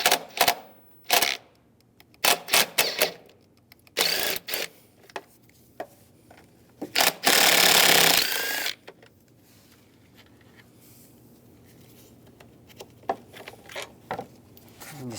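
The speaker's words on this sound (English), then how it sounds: "Use a 10mm socket, take those out" Two bolts coming out of the engine bay of a 2002-2009 Chevrolet Trailblazer with a 10mm socket wrench, heard as bursts of sharp ratcheting clicks and metallic taps, a longer whirring run in the middle, close and alone.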